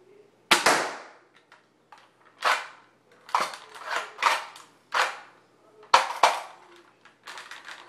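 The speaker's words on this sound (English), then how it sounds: "Here's the Expand A Blast one more time." An Expand A Blast firework fires in a series of sharp, loud pops and cracks with short bursts spaced irregularly across several seconds, each with a brief decaying tail.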